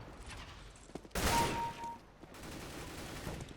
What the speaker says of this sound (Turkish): biri tünelden sıkıyor bizimkine